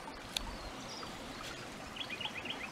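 Water in a creek flows steadily along a gold-prospecting spot, a continuous soft rushing wash with no breaks, mid-level and close, with faint higher trickles near the end.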